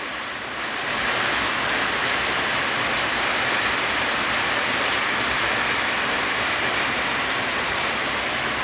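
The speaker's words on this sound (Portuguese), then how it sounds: "Chuva sagrada que Deus manda" Heavy rain pours down steadily in Minas Gerais, a loud, dense, unbroken hiss that swells after the first second and stays constant throughout with no voices.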